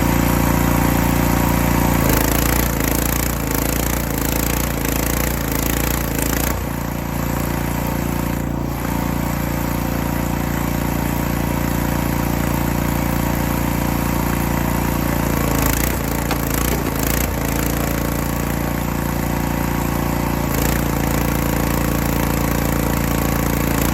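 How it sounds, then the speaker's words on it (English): Engine-driven hydraulic log splitter running steadily while splitting firewood, a loud constant engine drone with occasional strain and shifts in pitch as the ram works, close by and without talk. "But we're gonna split some wood."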